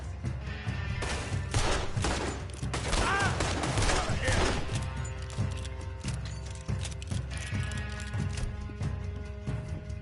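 Rapid gunfire in the video game Red Dead Redemption 2, a close fusillade of sharp shots and mechanical clicks running for the whole stretch, with shouting voices over it.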